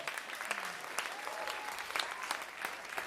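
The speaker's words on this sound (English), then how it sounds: "massive round of applause for all the panel here" An audience at a college band showcase applauds the panel, a steady dense round of clapping that holds at an even level throughout, fairly close and with no talking over it.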